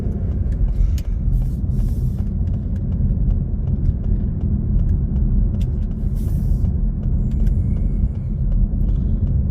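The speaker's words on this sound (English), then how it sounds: "So it's just like a van coming through now, delivery van or Cardo." A delivery van and several cars pass on a road, a continuous low traffic rumble heard from a slowly creeping car, with faint brake hisses now and then.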